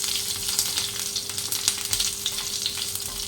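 Fennel seeds, two dried chilies and crushed garlic fry in hot oil for a paneer capsicum gravy, giving a steady, close crackling sizzle with bright spits and pops throughout and no voices.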